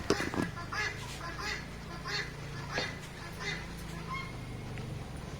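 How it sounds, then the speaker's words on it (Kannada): A guinea fowl calls in a run of harsh, repeated honking cries, moderately close, over a low background hum. "ಗಿಣಿ ಕೋಳಿ ಒಂದು ಕೂಗ್ತಾನೇ ಇರುತ್ತೆ ಕ್ವಾಕು ಕ್ವಾಕು ಅಂತ ನೋಡಿ ಕೇಳಿಸ್ತಾ ಇದೆಯಲ್ಲ"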